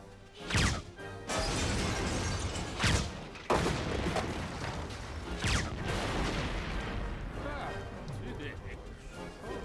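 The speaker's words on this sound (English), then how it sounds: "An impact grenade launcher." An impact grenade launcher fires in an animated Superman episode, giving several sharp, loud blasts spaced a few seconds apart over a dense rumble of crashes and action noise.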